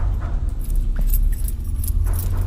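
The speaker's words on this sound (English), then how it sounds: "The keys being shaken are the keys to the goddamn door." Keys jangle loudly in the horror video game The Cursed Tape, a close metallic rattle of shaken door keys over a low engine-like rumble.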